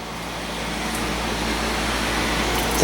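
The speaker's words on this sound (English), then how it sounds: "The fans in this thing are making a lot of noise." The cooling fans of a Sony Vaio VGC-RB52 run loudly as a steady broadband whoosh that swells slightly over a few seconds, with no voices.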